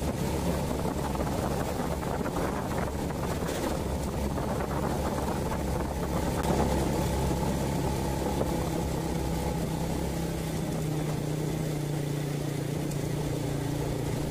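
An old Honda Supra Fit motorcycle climbs a mountain road, its small engine a steady, close droning hum with wind rumble, continuous throughout and with no talking.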